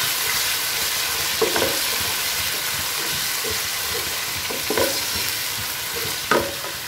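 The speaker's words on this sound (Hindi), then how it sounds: "साथ ही मैं इसमें डाल दूँगी लहसुन अदरक की पेस्ट। इसे अच्छी तरह से भून लूँगी" Garlic ginger paste fries in a pan for aloo keema, producing a dense, steady sizzle close by with occasional scraping stirs and soft clatter over it.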